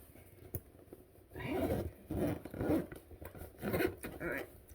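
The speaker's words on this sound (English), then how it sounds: "zip that up." A zipper is drawn closed on a bag in several short rasping pulls, close and fairly quiet, with brief pauses between strokes.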